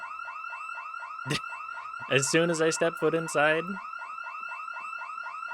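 A house alarm sounds in a zombie video game, a steady repeating electronic siren-like tone that keeps going the whole time, with a brief knock and a person speaking over it partway through.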